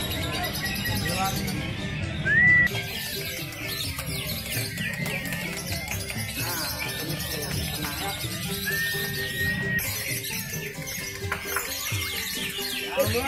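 Songbirds chirp and whistle among a crowd at a bird-singing contest, thin bird calls threaded through constant babble of voices and nearby talking.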